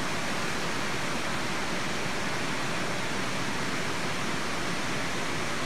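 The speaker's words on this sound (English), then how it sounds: "The background noise is the waterfall just next to it." A waterfall beside a flyline ride at Taupo makes a loud, unbroken wash of rushing water that fills the scene at a constant level, with no talk.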